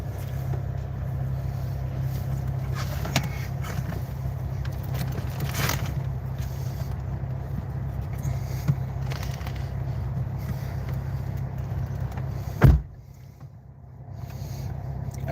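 A truck engine idles with a steady low hum for a long stretch, then a single sharp thud sounds like a door slamming shut, and the engine noise drops quieter afterward.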